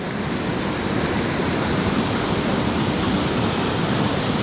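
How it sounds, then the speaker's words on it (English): Hareshaw Linn waterfall in full spate after rain gives off a continuous broad roar of rushing water, loud and unchanging from start to finish, with no voices. "it's a nice waterfall, especially in full spate after rains"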